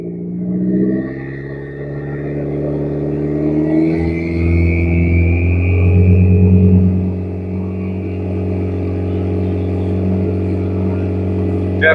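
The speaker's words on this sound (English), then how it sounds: "Definitely hear that turbo through the exhaust." Mopar car engine revving with a turbo audible through the exhaust, a loud steady rumbling drone with rising and falling pitch sweeps; voices talk faintly over it.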